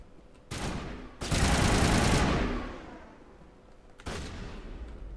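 Heavy bursts of gunfire during combat in Mass Effect, a short burst followed by a long sustained volley that trails off, then another burst a few seconds later, loud and close.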